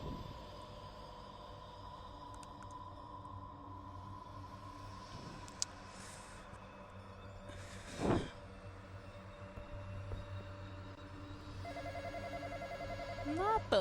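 A telephone rings faintly and steadily indoors during a gaming session, with people talking and chatting over it and a louder burst of rings near the end.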